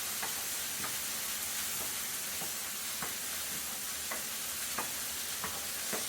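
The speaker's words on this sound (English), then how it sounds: "hoping you can hear me over this cooking food." Steady sizzle of food frying in a pan, with occasional sharp crackles and pops scattered over a continuous hiss.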